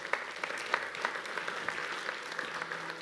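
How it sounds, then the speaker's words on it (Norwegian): A church congregation applauds after praise songs, with moderate, sustained clapping from a sizable crowd, slightly distant and fairly even throughout. "Skal vi gi en flott klapp til disse flotte"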